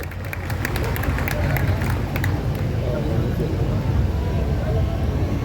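Dense, steady applause from a large audience at an all-India poetry gathering during the Kajali Teej festival in Bundi, a continuous roar of clapping with a voice over it.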